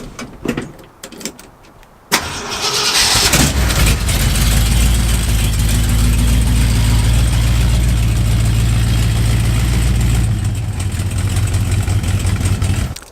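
A big truck V8, a 390 bored to 410, cranks and fires up with a loud roar, then settles into a deep, lumpy rumbling idle, close by.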